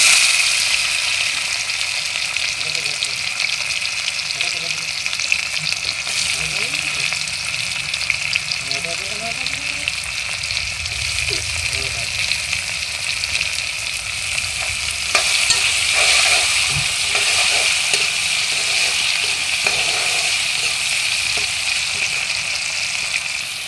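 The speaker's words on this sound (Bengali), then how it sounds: "এখন দিয়ে দেব টমেটো কুচি।" Chopped tomato frying in a hot pan after the whole spices are tempered, giving a steady, close sizzle with occasional stirring scrapes throughout and no voices.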